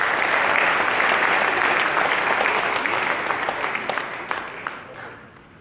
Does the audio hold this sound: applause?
yes